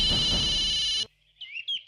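A mobile phone rings loudly with an electronic ringtone for an incoming call for about a second, then cuts off abruptly, leaving quiet room sound and faint chirps.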